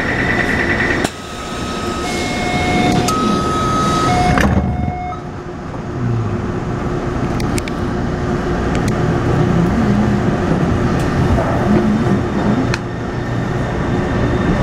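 Taipei Metro type 301 train with retrofitted propulsion, running toward Xiangshan between Tamsui and Beitou, its inverters giving steady tonal whines and stepping pitches over a loud continuous rumble of rolling wheels and cabin noise.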